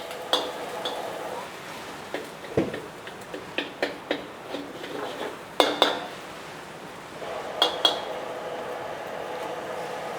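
Thai street food stir-fried over high heat with fermented radish, dry shrimp and rice noodles, with a quiet run of metallic clinks and scrapes from a spatula against the pan at an irregular rhythm.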